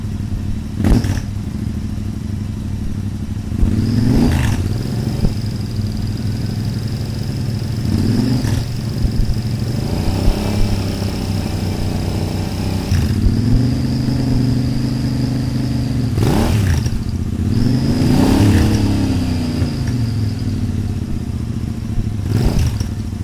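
An Interceptor 650 motorcycle exhaust, stock header against a big bore header, idles with a steady low throbbing rumble, punctuated by repeated throttle blips that rise and fall; no talk.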